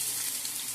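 Garlic hitting hot oil already crackling with mustard seeds and fenugreek for an avocado pickle, giving a brief, soft, steady hiss of sizzling.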